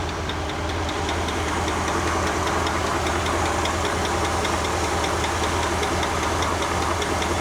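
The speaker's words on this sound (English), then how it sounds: "Engine sounds pretty good." A 1964 Comet car engine idles steadily with a faint ticking lifter knock running through its low, continuous rumble, loud and close with no talking.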